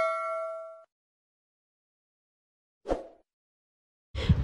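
A bright notification bell ding rings once at the start and fades after under a second, followed by silence and two brief clanking hits.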